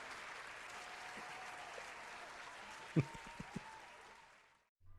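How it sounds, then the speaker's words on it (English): A studio audience or small group gives a round of applause, a fairly faint steady patter of clapping with a few sharper claps near the end before it cuts off abruptly. "Round of applause."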